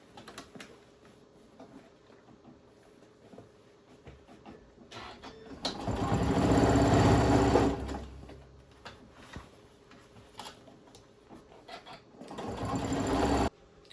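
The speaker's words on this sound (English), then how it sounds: "now we are going to just top stitch the entire outer edge of the bag" A sewing machine top stitches slowly around the outer edge of a fabric Easter basket bag, with two loud whirring bursts of stitching between quieter pauses full of small clicks and handling noises.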